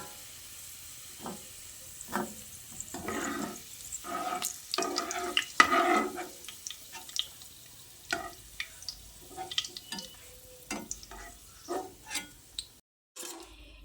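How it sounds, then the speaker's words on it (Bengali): Sliced onions fry in hot oil for a crispy brown topping while being stirred continuously, giving an irregular sizzle broken by scraping and stirring bursts, close and moderately loud, with no talking. "অনবরত নেড়ে চেড়ে পেঁয়াজের বেরেস্তাটাকে এইভাবে তৈরি করে নিতে হবে"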